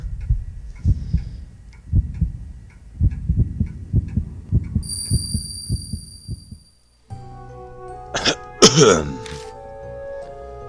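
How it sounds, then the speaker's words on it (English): Pained coughing from a character in the horror game Spirit Hunter NG: rough, low hacking bursts in rhythmic clusters for about seven seconds, then the coughing stops and a louder tonal voice-like sound follows. "Eventually the coughing stops and then in a firm voice the voice says something."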